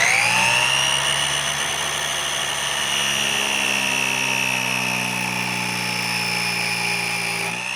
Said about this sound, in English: pine test with the abrasive saw